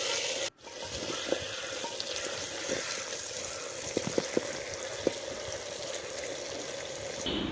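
Potatoes frying in oil in a pan over a mud stove, a steady close sizzle and bubbling with a few soft stirring knocks and clinks, no talking.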